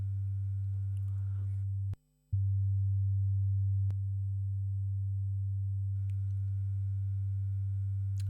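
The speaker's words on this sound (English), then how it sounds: "now we've got both oscillators sounding through that junction box" Two synthesizer oscillators drone together in unison as one steady low tone, broken briefly by a short dropout and a couple of faint clicks.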